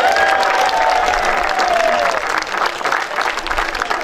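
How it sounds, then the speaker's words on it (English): Loud crowd applause with some cheering as the Gatehouse of Fleet Gala is declared open, sustained clapping from a large outdoor gathering, with a tonal whistle-like sound early on. "Give them all a massive round of applause, ladies and gentlemen"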